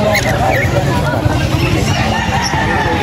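Pet birds at a pet market, including lovebirds: a dense, loud wash of chirping and squawking with crowd babble and a nearby voice talking over it.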